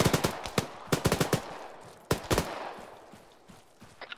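Bursts of machine gun fire in ARMA 3, loud close rattling volleys in quick clusters, then a long sustained burst that trails off into fainter distant shots.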